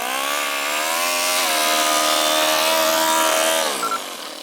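A two-cylinder four-stroke overhead cam engine in an RC car runs close and loud, its buzzing drone shifting pitch as the revs change, then easing off at the end.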